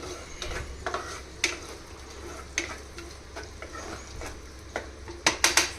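Tomatoes cooking down with salt in a pan for a tomato masala curry: a soft steady sizzle with sharp spatula clicks and scrapes against the pan, a quick cluster of taps near the end, no talking.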